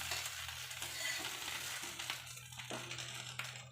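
A moong dal dosa roasting on a hot pan with a steady, close sizzle and occasional scraping or stirring noises, no one talking.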